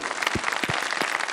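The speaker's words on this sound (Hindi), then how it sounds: "बहुत सारी तालियां भाई" A studio audience at a televised quiz competition claps in a brief, fairly faint burst with a few sharper individual claps.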